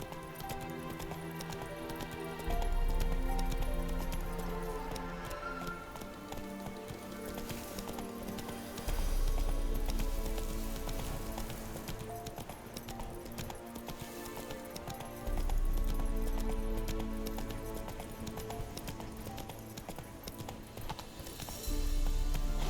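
Hoofbeats of the horse Roach in The Witcher 3, a steady soft clip-clop running under a layered music score, fairly quiet throughout with low swells of the soundtrack.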